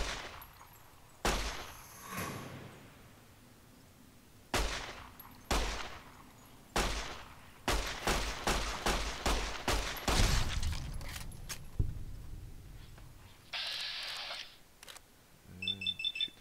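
Gunfire rings out in Fallout New Vegas, first a few separate loud shots spaced a second or more apart, then a rapid run of close, sharp reports, ending with a brief electronic beeping tone.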